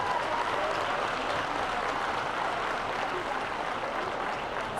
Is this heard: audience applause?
yes